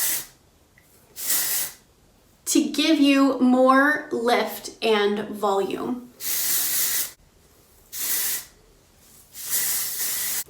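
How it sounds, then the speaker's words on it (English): Several separate hissing bursts of aerosol texturizing hair spray sprayed onto hair layers, each about a second long, with someone talking briefly in the middle of the sequence. "I'm going to come back through with the texturizing spray"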